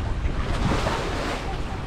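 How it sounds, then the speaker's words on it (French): Continuous wind and water wash with faint irregular clatter of sailboat shrouds, halyards and sheets slapping against masts, a steady outdoor marine noise with no voices. "tout ce qu'on entend, c'est le bruit des haubans et des drisses et des écoutes qui claquent sur les mâts"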